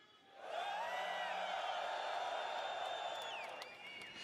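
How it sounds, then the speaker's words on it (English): An audience in Hall A at Citizencon 2954 screams and cheers, a large crowd's roar that swells quickly and holds loud and sustained with high whoops on top, then eases slightly. "If you're in Hall A, let me hear you scream."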